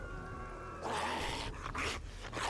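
A dog in the survival game 7 Days to Die growls after a stretch of low ambient hum, breaking into a few rough, loud bursts close by.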